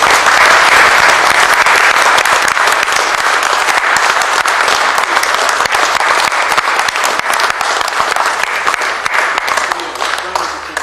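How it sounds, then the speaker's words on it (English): Sustained, dense applause from an audience at a political talk on the European Union, loud and steady for about eleven seconds and tapering slightly toward the end, with no speech over it. "Can I just ask whether you'll give a round of applause, please, for both Robert Francis and Harry"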